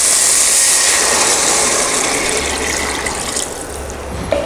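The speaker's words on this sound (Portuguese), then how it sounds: "Agora eu vou adicionar 1 litro de água" Water poured into a cooking pot with meat, a steady close splashing hiss that thins out toward the end, with a low rumble underneath and no talk.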